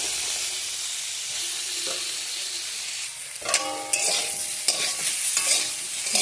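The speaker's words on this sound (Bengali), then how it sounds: "একটু হালকা করে ভেজে নেব।" Pieces of raw jackfruit sizzle steadily in hot oil with a constant hiss, then a utensil stirs them, adding sharp scraping clinks against the pan in the second half.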